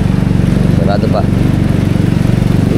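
A motorcycle engine drones steadily with a throaty low rumble while riding through deep floodwater on a flooded street during monsoon rains in Malolos, continuous and close throughout, with a person speaking briefly over it.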